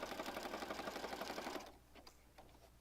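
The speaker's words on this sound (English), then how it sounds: "I just want to sew right inside that Polaroid frame." A sewing machine stitches steadily and close by through a Polaroid frame for about a second and a half, then stops, leaving faint ticks and small handling sounds.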